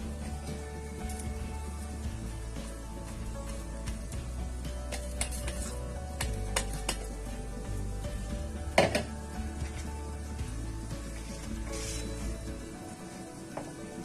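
Spices stirred into oil in a pan for mango pickle, with scattered scrapes and clinks of a utensil against the pan over a steady background hum.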